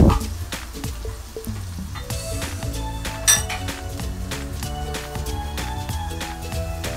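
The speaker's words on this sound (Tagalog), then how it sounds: "Ayan, igisa lang po natin yan." Corned beef sautéing in a pan while cooking cabbage, with a steady low sizzle under repeated metallic clinks and scrapes of a utensil against the pan, close and fairly loud throughout.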